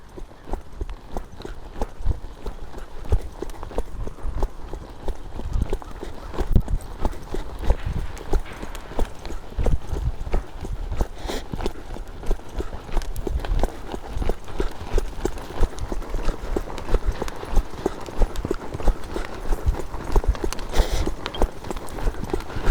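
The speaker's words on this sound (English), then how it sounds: "I like to trot these young horses" Young horse trotting, steady two-beat hoofbeats drumming on soft arena ground at close range, continuing without a break with scattered faint background noise and no talk.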